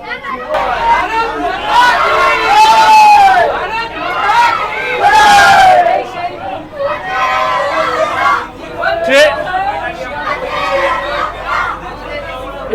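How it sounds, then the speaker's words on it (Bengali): A packed station platform for the first AC local train from Sealdah to Ranaghat, loud close crowd chatter and excited shouting, with nearby voices rising and falling over a constant hubbub. "প্ল্যাটফর্মটা আমি দেখিয়ে দিচ্ছি কতটা ভিড়"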